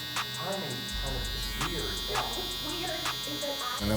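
An electric hair trimmer buzzes steadily during a kid's mid fade haircut, a close continuous drone broken by short clicks and bumps, with a voice talking over it.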